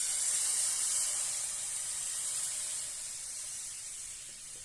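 Constant high hiss of thin crepe batter frying in a hot frying pan, loud at first and easing slightly, with no talking.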